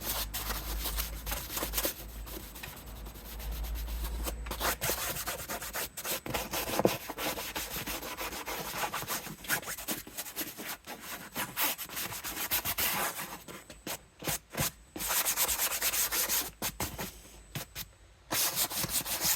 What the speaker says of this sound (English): Just going to brush the worst of it off with this nylon brush that came in the other kit.